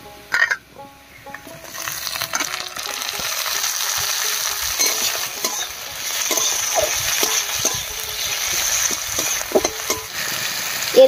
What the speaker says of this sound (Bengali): এবার এর মধ্যে দেব টমেটো কুচি।